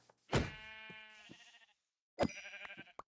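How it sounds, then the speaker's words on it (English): Two distinct sheep bleats from the Minecraft video game, each a wavering, drawn-out cry separated by a short pause, clear and close with no talk. "There are a lot of sheep around here, I know that much."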